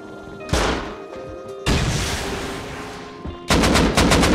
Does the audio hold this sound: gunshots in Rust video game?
yes